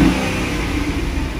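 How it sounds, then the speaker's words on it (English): A 2009 Pontiac G8 GXP with a 6.2L V8 revs loud and close, a steady full-throated engine roar held throughout with no talk. "let me rev this thing up for you"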